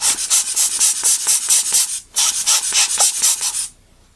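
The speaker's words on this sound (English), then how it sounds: "So here I have my blower" A rubber air blower puffs dust off a zoom lens element in rapid rhythmic squeezes, about a dozen close, hissy bursts, a short pause, then another run before stopping.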